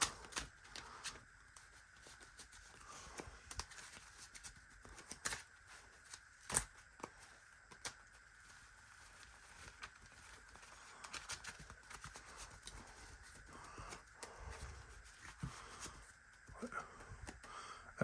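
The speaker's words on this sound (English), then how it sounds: "that's where I just shuffle like this" A player shuffles a deck of Magic trading cards over and over, making a quick riffling and flicking that repeats in irregular bursts, close and fairly quiet.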